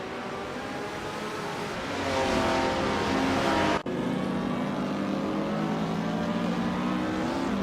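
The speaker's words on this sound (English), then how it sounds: "Dale Earnhardt has overtaken someone to move into third place" Race cars roar past one another during a racing video game, a loud continuous multi-engine drone with rising revs and a brief dropout midway, no voices.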